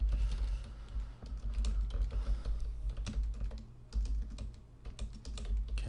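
Computer keyboard typing in quick irregular bursts of clicks over a steady low hum, close up and moderately quiet, with no talking.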